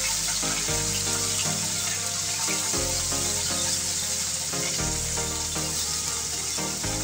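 Pako fern vegetables hitting a hot pan, a loud, steady hiss of frying with crackling bursts that swell and ease, alone with no talk.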